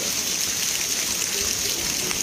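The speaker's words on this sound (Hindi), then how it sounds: "बिकॉज ये रेनी सीज़न है तो बारिश होना भी चाहिए।" Steady rainfall during the rainy season, a dense, even hiss of drops at constant loudness with no voices over it.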